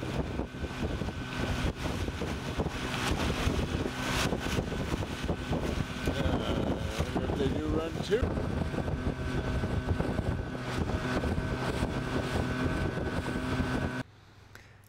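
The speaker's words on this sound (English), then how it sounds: "This is the ferry crossing." Steady low rumble of a ferry's engine and water noise on the Mackenzie River with wind buffeting the microphone, continuous until it cuts off near the end; a brief voice speaks.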